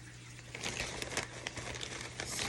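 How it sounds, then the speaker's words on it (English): Dry leaves crinkle and rustle as they are pulled out of a bag for a large oval fall grapevine wreath, close up and continuous with a few louder crackling bursts. "Just grabbing out of my bag a few more leaves."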